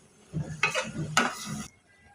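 Ridge gourd pieces stirred in a metal pan, two distinct scraping clinks of the spoon against the pan over soft shuffling of the vegetables, close and fairly quiet.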